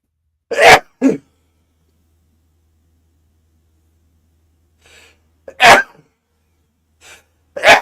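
Sharp explosive sneezes burst out in a quiet room during live baseball play-by-play coverage, two in quick succession, then a faint breath, and two more loud sneezes later, each close and abrupt.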